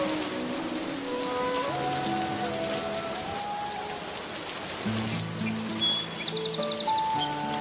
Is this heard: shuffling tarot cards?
no